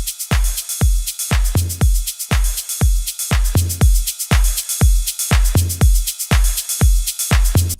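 A drum loop from a Production Music Live pack plays a steady, punchy pattern of kicks and bright hits, loud and dry with no talking.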